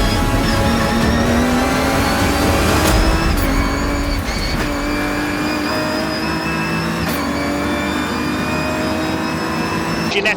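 Racing cars in a Britcar endurance race at Thruxton circuit, with a Ferrari leading, roar past loudly in a dense, continuous engine drone, with shifting pitches as several cars pass close by.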